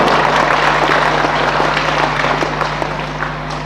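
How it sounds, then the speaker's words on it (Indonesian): Steady applause from a crowd at an Islamic religious gathering, a dense wash of clapping that holds throughout and fades slightly toward the end, with a low hum underneath. "Tepuk tangan dong"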